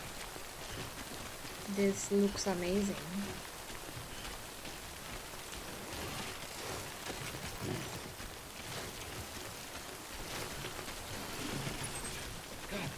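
Rain in Death Stranding falls as a steady, soft hiss of drops across the whole stretch, with a short musical chime early on and someone speaking briefly over it.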